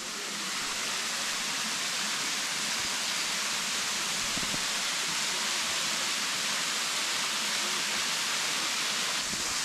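Thankowain waterfall pouring down in a steady, loud, unbroken broadband rush of falling water, constant throughout with no voices.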